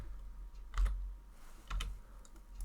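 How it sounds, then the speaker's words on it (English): Key presses on a computer keyboard, including the comma key, during 3D modeling work in Blender: two crisp, close clacks about a second apart with a few fainter taps between, in a quiet room with no talking. "you can do that by with the comma key on your keyboard"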